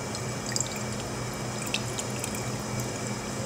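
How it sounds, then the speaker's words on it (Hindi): Warm water poured into a mixing bowl for pizza dough, a steady close trickle with a few small drips, continuous and unaccompanied by voices. "सबसे पहले हम बर्तन लेंगे, इसमें हमने गर्म पानी ऐड करना है"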